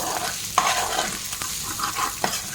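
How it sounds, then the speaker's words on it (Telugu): Chicken frying in a pan, a dense close sizzle broken by a few quick stirring scrapes, loud and steady with no voices. "చూసేయండి చికెన్ అయితే కొద్దిగా ఫ్రై అయిపోయింది"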